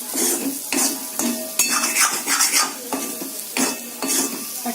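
A spoon stirs and scrapes spicy potato curry frying in a pan, with repeated metallic scrapes and clinks over a steady sizzle. The strokes come close up and loud in a loose rhythm, with no talk.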